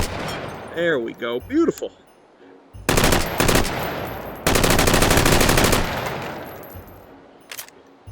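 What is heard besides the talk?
rifle firing in the VR video game H3VR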